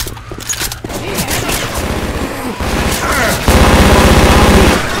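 Gunfire from Left 4 Dead 2 as zombies are shot, dense rapid bursts of weapon fire building into a loud continuous fusillade, close up, with game voices in the mix.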